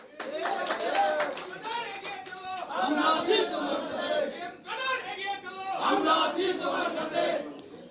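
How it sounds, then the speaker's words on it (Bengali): A crowd of party workers chants political slogans together in rhythmic bursts of massed voices at an indoor Jatiya Party extended meeting, loud and sustained, with chatter and some clapping mixed in. "স্লোগান দিও না বাবা"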